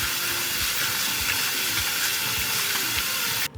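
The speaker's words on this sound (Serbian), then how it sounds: "Nakon 20 minuta stajanja opraću jagode pod mlazom čiste vode." Strawberries are rinsed under a stream of clean tap water, a steady, close rushing hiss of running water that stops abruptly at the end.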